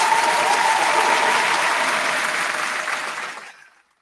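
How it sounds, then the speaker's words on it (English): A crowd gives a round of applause, with thick, steady clapping that stays loud and then quickly fades away to silence near the end. "Ladies and gentlemen, round of applause."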